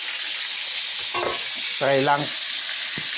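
Fish frying in a pan, a bright, continuous sizzle under brief talk, with a short voiced sound partway through.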